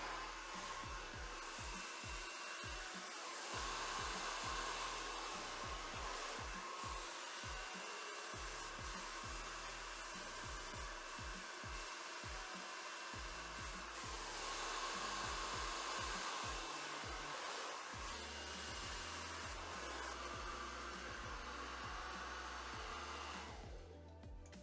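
Hair dryer blowing steadily and loudly during a salon-style blowout, its airflow roaring with rapid fluttering buffets as it is moved through hair, continuing without talk throughout.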